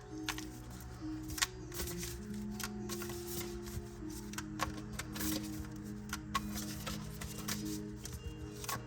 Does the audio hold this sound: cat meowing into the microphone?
no